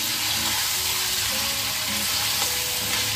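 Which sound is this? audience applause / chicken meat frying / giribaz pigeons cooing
chicken meat frying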